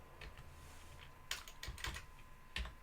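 Keys clatter on a computer keyboard at a terminal prompt, with scattered single taps early on, then quick bursts of keystrokes close to the microphone.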